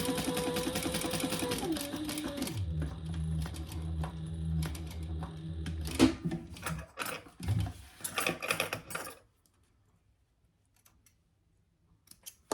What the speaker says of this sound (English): stitch on the front underneath that next card slot